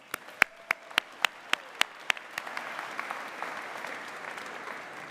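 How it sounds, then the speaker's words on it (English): Students applaud at a university convocation: a few loud, separate claps ring out first, then the crowd's applause fills in as a softer, dense patter that fades toward the end. "I think you guys need to give yourselves another round of applause."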